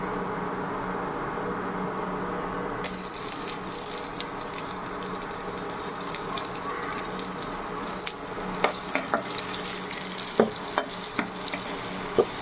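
Onions frying in oil in a pan for a simple vegetable chow mein, a steady broadband sizzle throughout with occasional scraping clicks of stirring growing more frequent toward the end, no talking.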